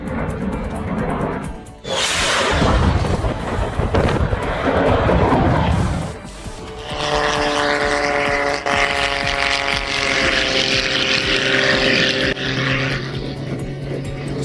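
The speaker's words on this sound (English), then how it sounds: "a seemingly calm aircraft suddenly roars to life. The engines thunder" Aircraft engines roar at the Battle Creek Air Show and Balloon Festival in Michigan, a loud rising blast that swells abruptly, dips briefly, then settles into a sustained powerful droning roar with a tonal whine.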